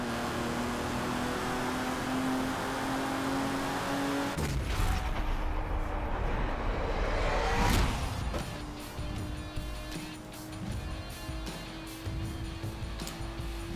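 Race car driving in the video game Forza Motorsport 7, a continuous loud engine drone with a shifting pitch, a sharp burst of noisy impacts midway, then the engine running on.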